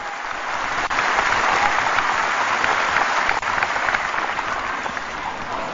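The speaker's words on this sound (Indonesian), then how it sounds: "mari kita berikan tepuk tangan yang meriah kepada seluruh tamu dan" A large audience at a Hanura party ceremony applauding the guests, with dense, sustained clapping at a steady level throughout and no talking.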